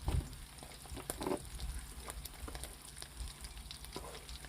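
Food sizzles and crackles in a pan cooked outdoors in chilly spring weather, a soft continuous frying hiss with a few sharper pops and clinks, no voices.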